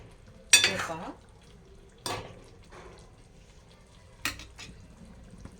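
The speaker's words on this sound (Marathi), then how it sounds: "आणि आता मस्त हलक्या हाताने हलवून घेऊया एकदा" A spoon gently stirs spicy egg masala in a pot, with three distinct scraping strokes spaced a couple of seconds apart over a faint background simmer.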